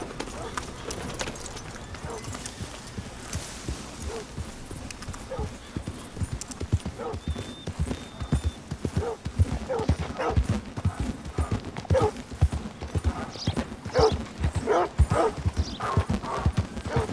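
A called horse gallops in Red Dead Redemption 2, with steady clip-clop hoofbeats growing louder and closer over the whole stretch, a brief neigh partway through, and game ambience and faint voices underneath.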